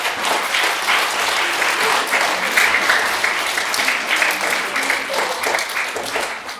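Audience applause at a regional children's theatre group gathering, a dense, steady round of clapping from a full room that holds throughout and tapers slightly at the end.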